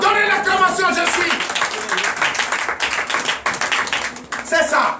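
A church congregation claps at a Sunday service, brisk and loud for a few seconds, with voices sounding alongside the clapping.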